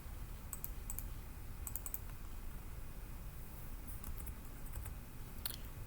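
Quick, light key taps and mouse clicks come in small clusters during CAD drawing work, crisp and close over a low steady room hum, with no voices.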